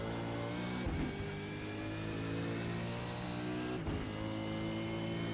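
A V8 Supercar engine in iRacing holds a steady high-revving drone, with two brief dips where the revs stumble and climb again. No one speaks over it.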